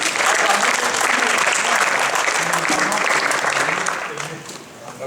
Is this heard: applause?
yes